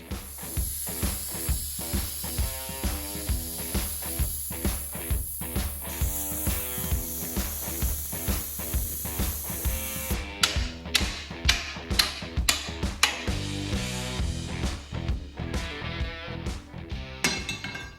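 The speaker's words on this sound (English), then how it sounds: "So I'm just putting the diff cover back on it" Rhythmic metallic ratcheting from tightening the bolts of a differential cover on a 14 bolt axle during a Jeep TJ build, a close, fast run of sharp clicks that turns into louder, more spaced clanks near the end.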